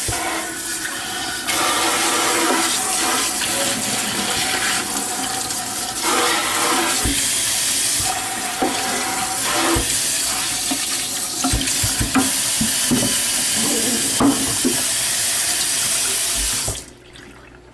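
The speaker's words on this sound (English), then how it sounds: "And then we're going to rinse off everything inside." Running water from a sink tap rinses the parts of an AquaSaw, a steady loud hiss and splash that runs unbroken for about sixteen seconds before cutting off abruptly.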